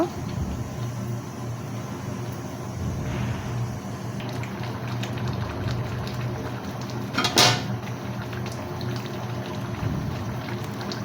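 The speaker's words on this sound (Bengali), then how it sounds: "ঢাকনা খুলে আমি নেড়ে চেড়ে নিচ্ছি" A pot lid lifted off and tomatoes stirred in a cooking pot, a soft steady bubbling background with one sharp metallic clatter midway and light scraping.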